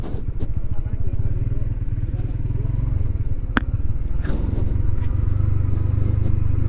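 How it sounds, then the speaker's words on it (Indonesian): A sedan climbs a hill with a steady engine drone and a brief clatter partway through, while people talk nearby. "Loh, ini sedan juga naik tuh."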